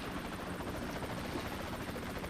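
A helicopter in the TV series Smallville gives a steady, fairly faint rotor thrum and whine, continuous throughout with no voices over it.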